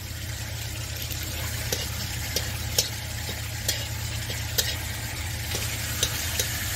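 Bay leaves frying in hot oil with cloves and cardamom, a steady close sizzle with occasional light clicks of stirring, no voices.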